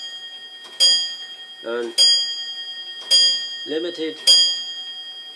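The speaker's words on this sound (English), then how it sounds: "There goes my clock again." A clock ticks steadily and chimes in a run of bright, ringing strikes roughly once a second, loud and close, while someone talks over it.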